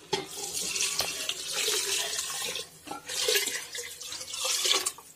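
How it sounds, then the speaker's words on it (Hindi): Water from a jug splashes into a pot of urad dal being cooked, a close, loud gushing pour that briefly dips, then resumes in strong bursts. "इसमें पानी डाल देते हैं"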